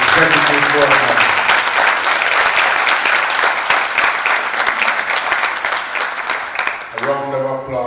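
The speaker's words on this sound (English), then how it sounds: "a round of applause showing appreciation for what they have done" A large audience at an awards ceremony applauds steadily and loudly for about seven seconds, dense clapping filling the room, before a voice begins speaking near the end.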